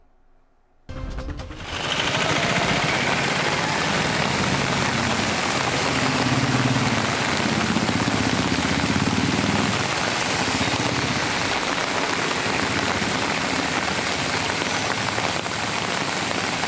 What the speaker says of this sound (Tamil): தற்போது சென்னையில் பல்வேறு பகுதிகளில் தற்போது மழையானது பெய்து வருகிறது